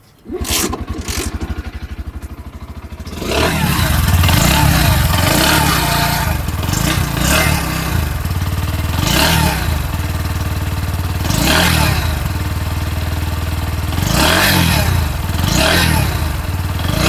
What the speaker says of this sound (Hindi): इसका अंडरबेली एग्जॉस्ट किस तरीके का साउंड करता है वो आपको फटाफट सुनाता हूँ।